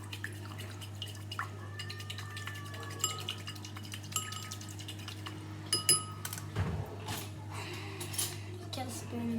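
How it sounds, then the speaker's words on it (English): A metal spoon stirs sugar into a drink, clinking and scraping against the cup in quick, light taps with a few louder knocks, close by over a steady low hum. "Get a spoon and mix it."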